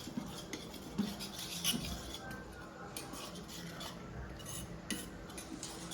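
Spoon scraping and clinking against a pot while Kathiyavadi dokli dough is mixed with oil, soft irregular stirring and light metallic taps, close up and fairly quiet.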